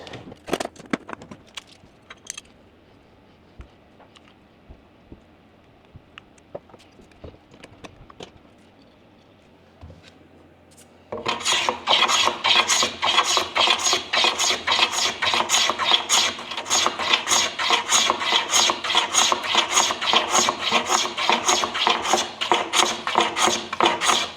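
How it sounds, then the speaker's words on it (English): Blades used for cutting ebony are sharpened, likely while working on a John Parris classic cue. About ten seconds of quiet handling clicks give way to a loud, steady, continuous grinding rasp that runs to the end without talk. "Tends to be my Sunday routine, to be honest, just sharpening the blades."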